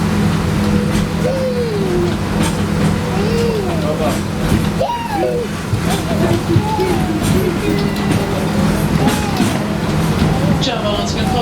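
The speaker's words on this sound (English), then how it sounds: "Now that our train has begun motion" The Wildlife Express train rumbles steadily in motion from on board, a constant low drone with occasional squeals and rattles, while a voice talks over it.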